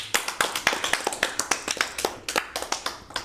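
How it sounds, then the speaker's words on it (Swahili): Audience applause at a children's live-stream show: a crowd claps in a brisk, slightly uneven run of sharp hand claps, close and loud, with no voices over it. "Tumpigie makofi."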